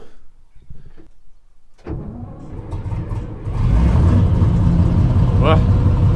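A few quiet knocks, then a Mk2 Stalwart military truck engine, in neutral, cranks and catches, settling into a loud, steady rumbling idle that grows stronger.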